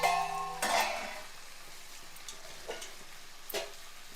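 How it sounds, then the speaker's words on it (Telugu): Pieces of yam and egg fry in a little oil in a pan for an egg curry. A soft, steady sizzle runs throughout, punctuated by a sharp metal clank at the start and a few lighter utensil taps, with no talk. "కొంచెం నూనెలో వేగిన తర్వాత ఒక ఐదు నిమిషాలు మగ్గితే సరిపోతుంది"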